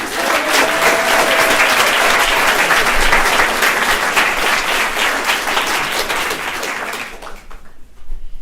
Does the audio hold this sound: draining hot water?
no